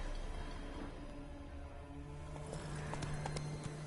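Hooves of Roach, Geralt's horse in The Witcher 3, a steady trotting clip-clop over a dense game ambience and a low musical drone.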